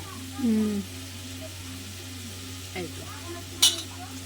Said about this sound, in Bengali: এখন এটাকে একটু নাড়াচাড়া করে ভালো করে ভাজিয়ে নিতে হবে